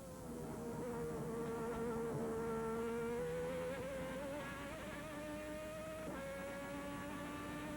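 A 1990 Formula One V12 engine revving at about 13,500 RPM, heard onboard during the German Grand Prix, gives a loud, sustained, buzzing high-pitched whine whose pitch climbs slowly, then drops sharply near the end before carrying on.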